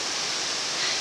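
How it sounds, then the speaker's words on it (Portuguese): A waterfall inside a park in Botuverá, Santa Catarina, gives a steady, dense roar of falling water. It stays loud and unbroken throughout, with no voices. "Que coisa mais linda essa cachoeira dentro do parque."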